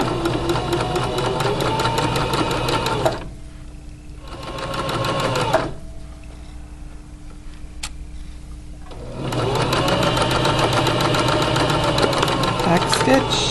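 Home sewing machine back stitching the rolled hem on boxers or pajama pants, running loud and steady in two long stretches with a short burst between, separated by quiet pauses.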